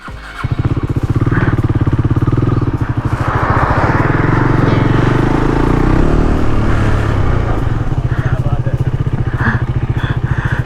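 A motorcycle engine runs loud and close throughout, a steady rumbling idle with a rhythmic low pulse and slight revving, during a winter solo ride in Spiti.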